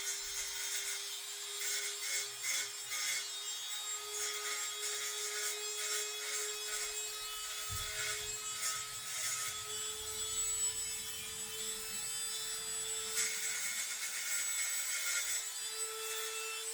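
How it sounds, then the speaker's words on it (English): A Dremel rotary tool carves wood with a sharp bit, giving a steady high-pitched spinning whine overlaid with scratchy, rasping grinding that rises and falls in bursts throughout, heard up close with no talking. "I'm gonna have to go to the Dremel on this one"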